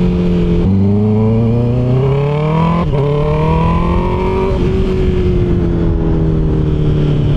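A 2024 Honda CB650R motorcycle fitted with an IXIL full system exhaust accelerates loudly through gear changes, its rising engine note breaking at each shift before settling into a steady drone close by.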